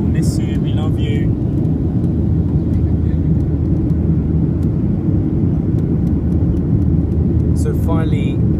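A Ryanair Boeing 737-8AS climbs out after takeoff from Gothenburg Landvetter, a loud steady cabin engine roar and rumble throughout, with a couple of faint chimes or clicks over it.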